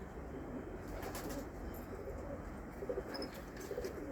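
White performing tumbler pigeons coo softly and repeatedly over a steady, low background hum, with an occasional faint chirp, the birds sounding quiet and slightly distant.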